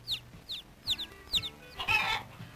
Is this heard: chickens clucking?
yes